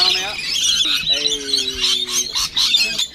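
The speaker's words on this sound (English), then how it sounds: "These birds are going crazy. Rainbow lorikeet." Rainbow lorikeets squawk and screech loudly in a dense, continuous chorus of harsh, high calls, with a person talking over the birds.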